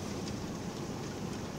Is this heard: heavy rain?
yes